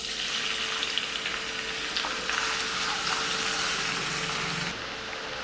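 Finely chopped onion, ginger, garlic, green chilli and curry leaves sizzle steadily in hot oil, a loud close hiss that holds without a break and thins slightly near the end.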